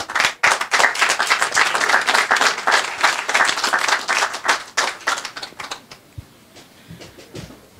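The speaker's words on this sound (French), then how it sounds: "Je vous demande d'accueillir sous les applaudissements Madame Élodie Clarac." Loud applause from an audience welcoming a speaker at the inauguration of a football pitch's new lighting system in Guadeloupe, sustained dense clapping for about five seconds before thinning to scattered claps and fading out.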